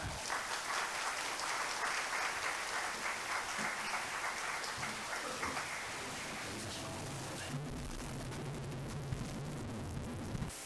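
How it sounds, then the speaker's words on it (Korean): Welcoming applause from a church congregation as a pastor comes forward at a revival education session, a steady broad wash of clapping for several seconds that thins out and fades to scattered claps and quiet room noise. "우리 목사님 나오실 때 우리 환영의 박수로 우리가 맞이하겠습니다."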